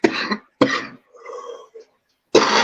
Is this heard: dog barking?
no